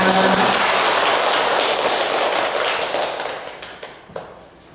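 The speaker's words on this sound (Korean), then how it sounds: "두 분께 다시 한번 큰 박수 부탁드립니다" Audience applause at a Buddhist university lecture in a temple hall, a dense wash of clapping that starts loud with a brief voice at the opening, then thins and fades out over the last second with a few scattered final claps.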